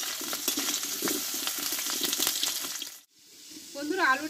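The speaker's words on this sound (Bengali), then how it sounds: "এই তেলটাতে আলুটা একটু ভালোভাবে একটু কষিয়ে নেব" Potatoes sautéing in hot oil for a Bengali vegetarian pumpkin dish with panch phoron, giving a steady, busy sizzle for about three seconds before it cuts out and a voice begins near the end.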